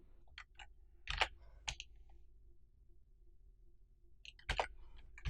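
A computer mouse gives several quick, crisp clicks on a web page: two tight pairs near the start, a cluster around the middle and another pair near the end, with a quiet hum between them.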